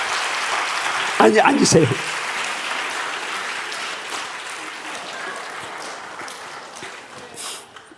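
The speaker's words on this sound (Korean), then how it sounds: "한 박수 한번 하세요." A church congregation applauds at a revival worship service. A burst of dense clapping swells briefly near the start, then a softer, continuous roomy wash of applause carries on while a speaker talks over it.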